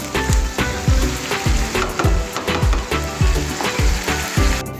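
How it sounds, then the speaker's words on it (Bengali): Chicken tikka meat frying in a pan over a high flame for a chicken tikka roll, a loud, steady sizzle broken by a regular rhythm of clanking stirring strokes, close up with no voices. "এবার আমি হাই ফ্লেম দিয়ে মাংসটা করে নেব।"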